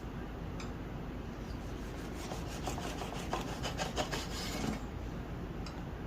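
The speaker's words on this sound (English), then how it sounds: "let's go ahead and cut into this bread. I'm going to cut a couple of slices" Knife sawing through a loaf of homemade sandwich bread, a steady close rasping rub with a quicker series of strokes in the middle.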